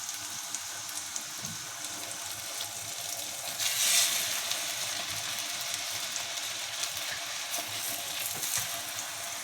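Oil heating in a pan for frying Turkish pişi dough gives a steady, close sizzling hiss that swells briefly louder midway, with faint clicks and scrapes throughout and no voices.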